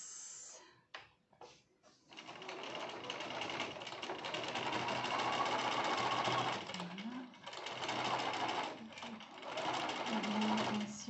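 A sewing machine runs steadily, stitching the second drawstring seam on a cotton face mask, close and continuous after a few short starts, with someone speaking French over the whirring.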